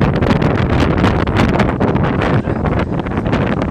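Strong wind buffets the microphone continuously, a loud rumbling roar with gusty fluctuations and no clear voices.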